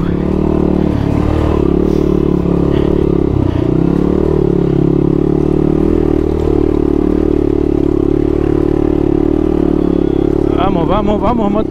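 A Kawasaki KLR250 dual-sport dirt bike drones continuously at close range with its single-cylinder engine held at steady revs while climbing a rough single-track trail, with clattering underneath and a voice breaking in briefly at the end.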